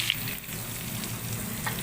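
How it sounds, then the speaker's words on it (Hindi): Ground garlic sizzles and crackles in hot oil in a pan for a lentil tempering, a continuous close frying hiss with occasional small pops. "अब इसमें मैं लहसुन जो पिसा हुआ था वो डालने लगी हूँ"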